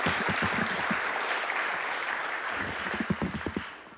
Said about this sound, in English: let's give another round of applause for Sean